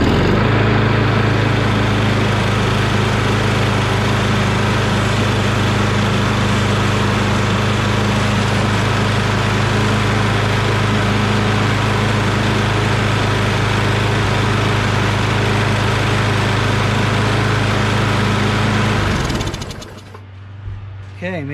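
A Craftsman push lawn mower with a Briggs 550EX engine runs steadily and loudly up close, its even drone holding for about nineteen seconds before it abruptly cuts off into quiet.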